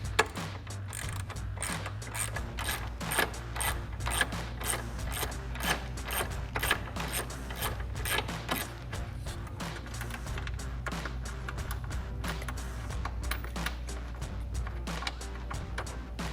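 Rapid ratchet clicking from a 13 mm socket working loose the intake box bolt on a Ford F-150, a steady run of close, crisp clicks over a low hum, with no talking.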